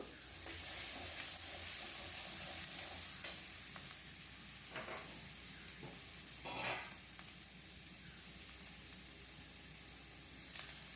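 Spice paste of tomato, salt and turmeric sizzles and fries in a pan for an Echor Chingri jackfruit-shrimp dish, soft continuous crackle broken by a few scraping stirs, heard alone and fairly faint.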